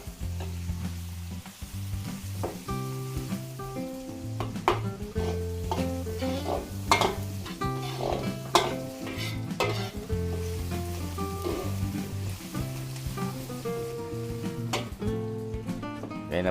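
Onions sautéing in a pan for a Filipino birthday meal hiss steadily under loud background music, with occasional scrapes and clinks of a utensil against the pan.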